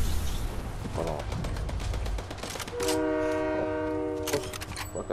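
A train passing in the Fortnite video game rumbles and clatters, then sounds a sustained multi-tone horn blast for about two seconds, loud and near, mixed with game sounds and a player's voice.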